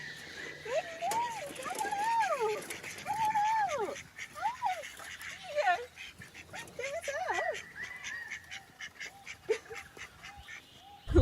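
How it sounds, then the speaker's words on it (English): Ducks quacking loudly and excitedly as they are let out of their pen in a rainforest setting, a rapid series of nasal calls close by with some background noise. "Letting the ducks out always gets me in the best mood."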